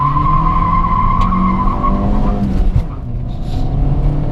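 Tires of a JAC J3 Turin hatchback with 97,000 km squeal loudly during a hard 0-100 km/h launch, a sustained screech over the revving engine that fades as the car pulls away.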